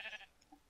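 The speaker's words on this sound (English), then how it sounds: "Hello, little sheep, sheep, sheep." A Minecraft sheep gives one short, faint bleat, heard alone and briefly in a quiet game scene.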